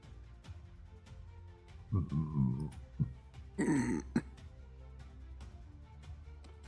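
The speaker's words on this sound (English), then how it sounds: "I may or may not have burped" A man lets out a quiet burp, then a second gurgling burp a moment later, over a low steady background hum.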